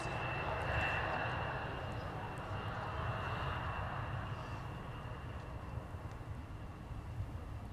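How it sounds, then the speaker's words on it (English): Embraer E175 jet rolling down the runway after landing at Minneapolis–Saint Paul airport, a continuous broad engine roar with a thin whine, steady and fairly distant, no talk. "Look at how far down our E175 is going."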